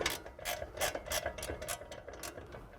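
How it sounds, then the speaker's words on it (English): A ratchet spins a nut off an upper ball joint, producing quick, close, rhythmic clicking in a steady run of strokes. "A couple spins with the nut."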